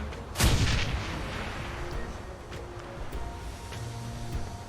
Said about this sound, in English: Isabel is going to grenade. Sweet. And grenade.